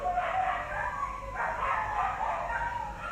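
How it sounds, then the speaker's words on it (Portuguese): Several dogs barking and yelping in a steady overlapping chorus close by, continuous across the whole moment with no pauses. "Meu Deus, os cachorros aqui estão..."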